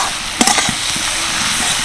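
Cleaned mushrooms tipped into a fried spice paste in hot oil, giving a loud, steady sizzle with a brief cluster of clatters and spatters as they land, and no talk.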